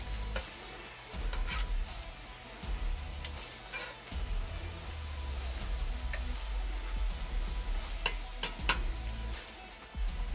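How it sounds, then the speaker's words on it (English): Pork tenderloin sizzles in butter in a pan, a soft crackling fry with scattered scraping and clicking bursts, quiet and close with no talk. "I'll let that sit in the pan while I clean up my mess real quick"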